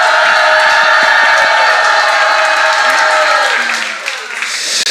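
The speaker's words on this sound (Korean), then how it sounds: "Let's give Jesus a big shout today" A congregation at a Sunday worship conference lets out a loud, sustained shout and cheer, many voices holding a roaring tone over scattered clapping before the noise slowly fades.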